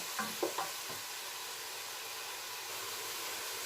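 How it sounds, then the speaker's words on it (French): Onions sauté in oil for chorba soup, a steady close sizzle with a few quick stirring clicks at the start, then an unbroken hiss. "il faut que l'oignon on le fasse bien revenir comme ça"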